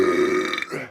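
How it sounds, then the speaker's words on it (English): One long, low, gurgling burp rumbles close to the mic for nearly a second, loud at first and fading toward the end, with no talking over it. "I really need a burp."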